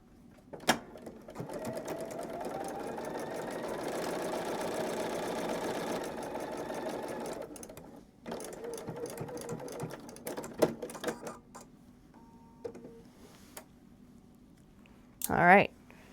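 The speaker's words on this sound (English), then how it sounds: "I'm going to sew across the waist, not the crotch, but the waist of the 2 strips here" A sewing machine stitches quilt binding strips in several bursts, the longest running several seconds, then shorter runs with pauses and a few soft clicks between them, close by and moderately loud.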